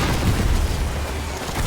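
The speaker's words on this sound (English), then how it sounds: "Love the explosions." A continuous, loud, rumbling roar of explosions comes from the Battlefield 6 video game. It is a dense, heavy blast sound with no clear separate hits and no talk.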